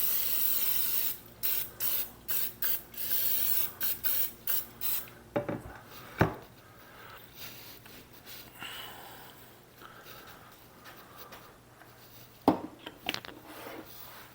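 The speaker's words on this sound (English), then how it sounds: "What we're going to do is spray this a little bit with some slip and slide juice." Several short bursts of cooking spray hiss into a 9x13 Pyrex glass baking pan, close and crisp in a quick rhythmic series, followed by a few sharper clicks and knocks from handling the pan.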